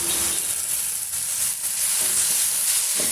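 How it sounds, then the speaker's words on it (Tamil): Onions and tomatoes sautéing in a pan for a chicken fry, a steady close sizzle and hiss with faint stirring, no voices over it. "பச்சை வாடெல்லாம் போயிட்டு நல்லாவே நம்ம வதக்கி விட்டுக்கிட்டோம்"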